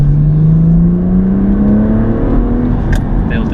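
A manual BMW M140i builds its revs in a smooth, loud, rising engine drone heard from inside the car, a steady climb in pitch under faint cabin noise and a short voice near the end.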